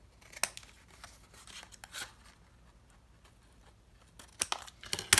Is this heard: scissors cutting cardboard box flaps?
yes